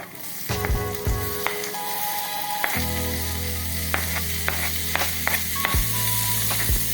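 Tomatoes hit hot oil with garlic and ginger for a Kannur-style fish curry, setting off a loud steady sizzle with scraping stirs and occasional clinks of a spoon against the pan.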